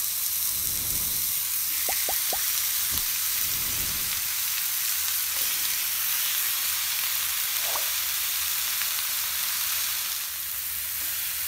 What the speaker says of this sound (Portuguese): Vou colocar um fio de óleo e vou começar a fritar